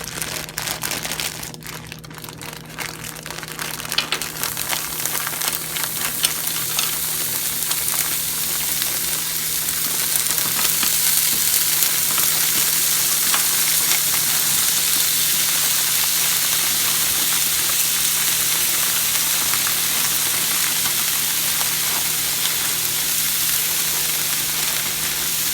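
Tofu stir-fry with mushrooms, broccoli, green beans, carrots, red bell pepper and onion sizzles steadily in a hot pan, a dense crackling hiss that swells after the first few seconds and holds loud and constant, with no voices.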